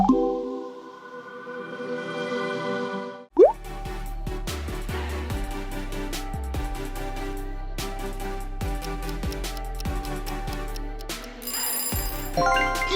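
YouTube app logo jingle: a soft sustained tonal intro, then a sharp swoosh hit launching an upbeat, punchy electronic music bed with steady beats and bright synth stabs, ending on a high shimmering accent.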